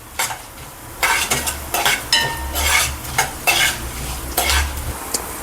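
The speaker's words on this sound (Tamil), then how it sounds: "இப்போ உளுத்தம் பருப்பு போட்டுக்கலாம். நல்லா மிக்ஸ் பண்ணிக்கலாம்." Urad dal sizzles and fries in a pan while being stirred, with repeated loud scraping strokes over a constant crackling sizzle and no talking.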